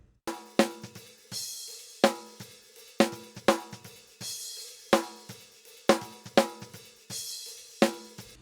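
Hip hop snare pattern run through an Orange Clip clipper plugin, each hit louder, denser and slightly flattened, repeating in a steady programmed rhythm of crisp strikes with short tails and no voices.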